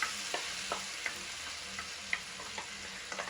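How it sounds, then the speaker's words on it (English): Blended tomatoes are stirred into a pan of frying onion and garlic, producing a quiet continuous sizzle with light, irregular clinks of a spoon against the pan. "I'll now add in my blended tomatoes"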